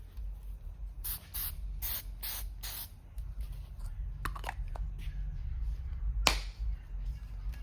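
SEM adhesion promoter sprayed from an aerosol can onto plastic car interior trim, several short hissing bursts in a row followed by a few clicks and one last spray burst.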